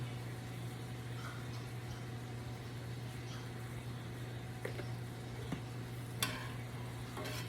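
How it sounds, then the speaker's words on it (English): Mushrooms sautéing for a bacon green bean casserole, sizzling steadily in a pan with a low constant hum underneath and a few light clicks of the spoon stirring, close and continuous. "I'm just going to keep this marinated, sauteed, should I say, until the mushrooms wilt"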